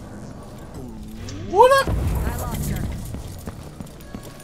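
A horse in the Dishonored 2 video game, with a brief whinny-like cry followed by low clopping rumble, heard at moderate distance under a player's casual talk.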